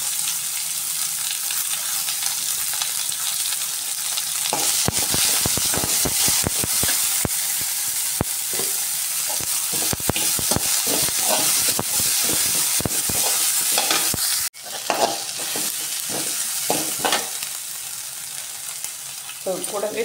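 Mustard seeds, green chillies and two large onions frying in hot oil: a dense close sizzle with many sharp crackles and pops, one abrupt dip midway, then steady hissing with scattered crackles, no talk.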